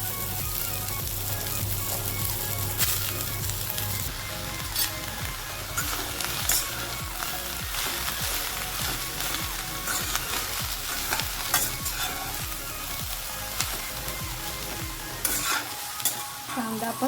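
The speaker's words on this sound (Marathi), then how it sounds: "आता मी कांदा भाजून घेते।" Onion frying in a pan while masala is prepared for chicken curry, with a bright, steady sizzle and frequent stirring clinks and scrapes. A low hum sits underneath for the first few seconds.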